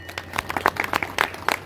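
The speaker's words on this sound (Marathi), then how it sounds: "जोरात टाळ्या वाजवून" Audience at a women's Harinam Saptah gathering at Kalaram temple in Nashik clapping in scattered, uneven bursts, fairly close and moderately loud, with no talk over it.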